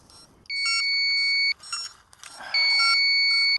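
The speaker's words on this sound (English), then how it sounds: "Switching on recovery buzzer now." Quadcopter drone recovery buzzer sounding in two long, shrill, steady electronic beeps about a second each, separated by a short gap with faint background noise, fairly loud and close.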